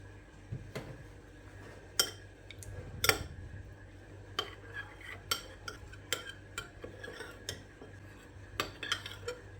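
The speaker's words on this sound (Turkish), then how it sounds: "Sosu için 1 yemek kaşığı biber salçasıyla 1 çay bardağı suyu karıştırıyoruz" Metal spoon clinking and scraping against a bowl while pepper paste is stirred into water for a kebab-tray sauce, a steady run of sharp close ticks and clinks with a low background hum and no talk.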